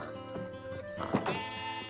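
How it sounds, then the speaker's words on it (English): A Minecraft sheep bleats, a short wavering call heard close and clearly, with a second brief bleat following. "You silly sheep."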